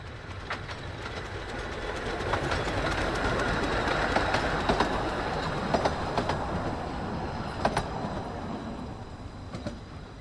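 Ravenglass and Eskdale Railway locomotive Katie, a narrow-gauge engine, rolls past with steady wheel rumble and rhythmic clickety-clack over rail joints, sustained and fairly close for the whole stretch.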